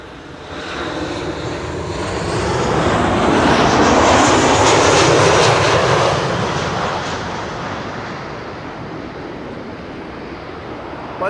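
An Icelandair Boeing 757 in black and white livery arriving at Schiphol roars in, builds to a loud peak as it passes overhead, then recedes into a fading rumble.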